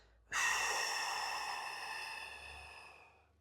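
A slow, controlled breath out during a thoracic spine foam roller mobilisation exercise, one long steady airy exhale that starts abruptly and fades gradually over about three seconds, close and alone.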